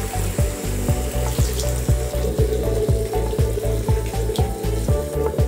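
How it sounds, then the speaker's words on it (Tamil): Water poured into a pan of country chicken gravy as it cooks, a steady close pouring and bubbling wash over a continuous sizzle, with no talking. "சிக்கன் வேகிறதுக்கு நம்ம கொஞ்சமாக தண்ணி சேர்த்துக்கலாம்."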